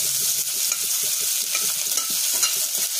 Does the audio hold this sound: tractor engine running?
no